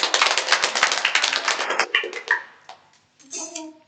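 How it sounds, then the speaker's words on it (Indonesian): A class applauding a classmate: a burst of close, dense clapping from several people that thins out and fades after about two seconds, followed by a brief faint voice. "beri aplaus untuk temennya"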